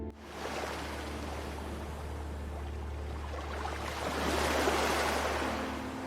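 Gentle waves lapping at a low, shallow shore stretching to the horizon, a steady soft wash of surf that swells slightly louder near the end, with no voices.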